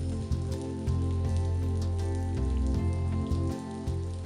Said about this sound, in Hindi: मॉनसून की एंट्री से पहले मध्य प्रदेश में प्री मॉनसून की बारिश हो रही है।